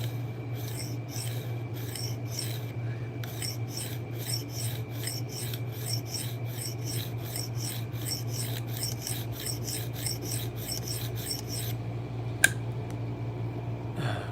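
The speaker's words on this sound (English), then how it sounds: "I need to get back to sharpening." Steady rhythmic rasping strokes of a blade being sharpened, repeated evenly and alone over a constant low hum, ending with a single sharp tap.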